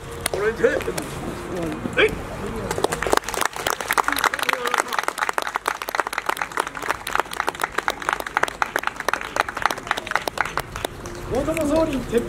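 A festival audience gives a long burst of dense clapping for a matchlock gun corps after a shooting demonstration, steady and close, with a voice speaking over it at the start and end.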